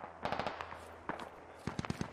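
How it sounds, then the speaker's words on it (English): Enemy autocannon in the military shooter Squad, firing from far off in short bursts of several faint, rapid reports, with a pause between groups. "enemy auto cannon north northeast far"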